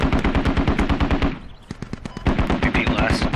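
Machine gun fire in the video game Squad: rapid, loud, evenly spaced bursts that break off for a short lull before the hammering resumes.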